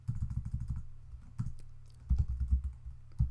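Quiet clicking of a computer keyboard as code is typed, coming in short bursts of keystrokes with pauses between them, close and soft.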